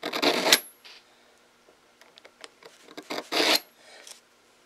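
A file rasps across a Simmons Land Shark broadhead in close, scraping strokes: two strong pulls and several lighter, shorter scratches in quiet surroundings.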